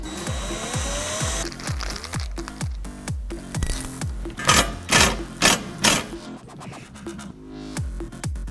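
A power drill drives screws for a TV wall mount into a wall stud, giving a run of short whirring bursts with scraping and tool handling between them, close and loud with no talk.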